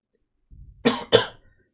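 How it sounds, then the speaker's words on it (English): A person gives two sharp, close coughs in quick succession, preceded by a brief throat rasp, in an otherwise quiet room while recovering from illness. "I'm gonna be coughing a lot today."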